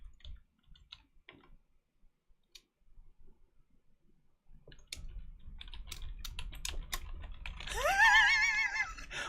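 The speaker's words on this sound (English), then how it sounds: "Are you telling me I can't type the hash key on this keyboard?" Keys clicking on a computer keyboard during a coding session, scattered taps at first, then a quicker run of keystrokes over a low hum, with a brief rising electronic tone near the end.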